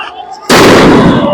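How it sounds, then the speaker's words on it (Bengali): A loud blast of police gunfire erupts during street clashes with protesters, a sudden sharp onset followed by a sustained roaring crackle, close and overwhelming after a quieter moment. "পুলিশ কিন্তু গুলি করছেন, অনেক গুলি করছেন"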